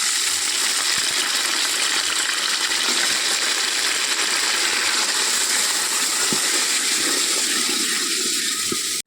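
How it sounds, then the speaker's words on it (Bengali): Rice is poured into a cooking pot of fried whole spices (cardamom, cinnamon, cloves) for khichuri, making a loud continuous rushing hiss that runs evenly for about nine seconds before cutting off abruptly. "ভাজা হয়ে গেছে, এতে আমি চাল দিয়ে দিচ্ছি।"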